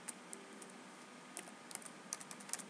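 Light, quick keystrokes on a computer keyboard, coming in short irregular bursts, faint and close in a quiet room.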